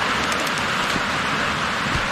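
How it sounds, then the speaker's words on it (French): Rain falls steadily outside on a rainy day, a close, even patter of drops with scattered brighter splashes and no voices over it. "On entend tellement bien la pluie."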